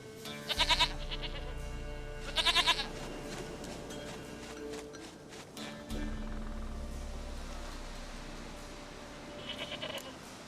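Goat bleats from The Witcher 3 video game: two loud, close, wavering calls in quick succession, then a softer third one after a long pause, set against low game ambience.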